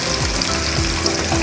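Potatoes frying in hot oil, an even, dense sizzle with a faint stirring scrape running close and continuous, no voices.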